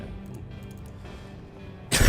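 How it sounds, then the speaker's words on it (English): A short, harsh cough from a character in the war-survival game This War of Mine breaks out at the very end, after quiet ambient game sound. "Cough, cough, cough."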